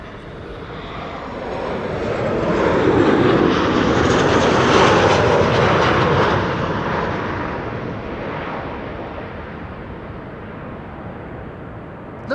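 Jet airliner passing close by on arrival at Amsterdam Schiphol in a crosswind, a broad roar swelling to a peak midway and then slowly fading, loud and alone.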